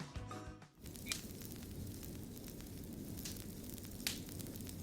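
Fire burning with soft crackles and pops over a low steady rushing roar, faint and continuous, with a few sharper snaps scattered throughout.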